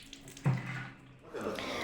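Water gushes from a tap or shower after a cyclone, a steady splashing flow that swells suddenly and keeps running, with a brief dip before rising again, fairly close and free of talk.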